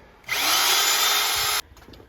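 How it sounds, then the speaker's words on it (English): A power drill whines loudly at a steady high pitch for over a second, grinding into steel by a blacksmith replicating century-old gates, then cuts off, leaving quiet room noise. "ended up needing power tools after all. Unless we wanted to wait here all day while we drill through steel"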